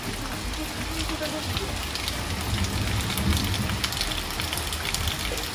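Steady rain falls in a full, rushing wash, with people talking underneath it.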